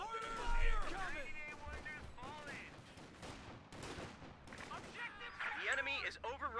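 Company of Heroes 2 battle sounds: rattling gunfire and artillery bursts run through the scene. They sit mostly beneath prominent game voice lines and spoken commentary.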